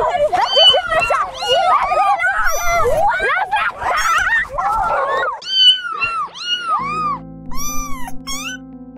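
A cat meows and yowls loudly and repeatedly in distressed, drawn-out cries, close by, while people talk over and around it.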